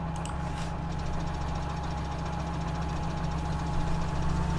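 A tractor engine idles steadily in Farming Simulator 17, a continuous low rumble with a knocking pulse that stays even and close throughout, with no talk over it.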